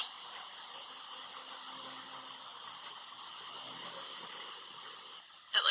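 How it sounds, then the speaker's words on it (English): An electronic device beeps suddenly during a ghost hunt in Portland's White Eagle Saloon, a fast run of regular, evenly spaced high beeps that goes on quietly for several seconds before a brief louder rustle at the end. "It's weird that it's all of a sudden beeping now, and like it spent so long not beeping."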